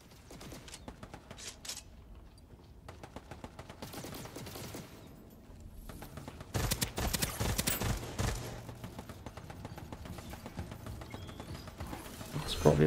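Rapid gunfire in the Starsiege Deadzone shooter, sharp clattering bursts, some distant and some close, that build into a louder volley midway and keep up to the end.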